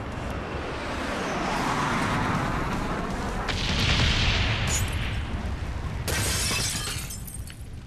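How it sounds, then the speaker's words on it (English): A friendly napalm strike in a war video game hits with a sustained roaring boom, followed by a rising rumble and crackling debris, then a sharp shattering burst near the end. "Friendly napalm strike on the way."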